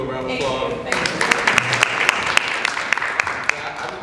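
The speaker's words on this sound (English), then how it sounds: "can you guys please give Miss Aisha the Gap Tooth Diva a round of applause?" An audience at a community academy event bursts into applause, beginning with voices and swelling into a dense, bright patter of many clapping hands with distinct sharp claps standing out, loud and close.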